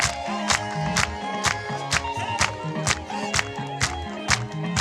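A worship congregation claps for Jesus during a lively church service of dancing and praise. Sharp, regular claps land in steady rhythm with music, loud and close throughout.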